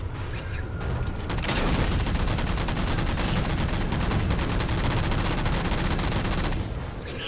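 Sustained, dense gunfire fills the whole stretch as the jammers in the Halo 4 PC game are shot down: rapid continuous bursts with booming impacts, loud and close, and no voices.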